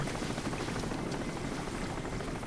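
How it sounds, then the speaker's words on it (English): A helicopter in the video game Crysis flies overhead, its rotor and engine giving a loud, steady, unbroken roar that fills the whole stretch with no talk. "Fucking helicopters."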